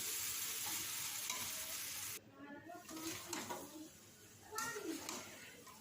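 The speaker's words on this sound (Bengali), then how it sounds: "আমি আলু আর এটা কষে নিচ্ছি অল্প অল্প জল দিয়ে দিয়ে" Boiled potatoes and chickpeas are stirred and sautéed with spices in a pan while small splashes of water are added, giving a steady soft sizzle with scraping stirs and a sharper hiss after a pause; a voice talks throughout.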